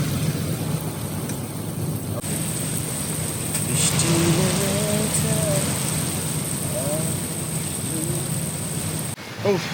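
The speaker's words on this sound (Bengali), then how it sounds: "সেই বৃষ্টি হইতেছে হাওড়ে" Steady rain pouring over Tanguar Haor, heard from a houseboat, with a constant hiss, faint voices briefly audible midway beneath the downpour.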